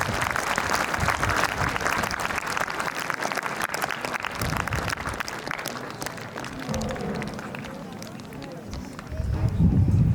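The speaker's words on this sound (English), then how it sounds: "Please give a huge round of applause to the outgoing teachers" A school audience claps for outgoing teachers at a farewell programme, dense sustained applause filling the hall at steady volume, with crowd noise and some thumping low rumble near the end.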